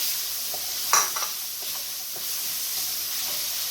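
Cranberries go into kale cooking in a pan for a keto dish: a brief clink and rustle as they land, then a steady, soft sizzle with light stirring, and no talking.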